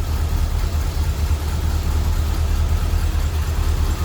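The engine of a 1974 Chevrolet Corvette convertible idles smoothly, a close, steady low rumble with an even rhythm and no talking.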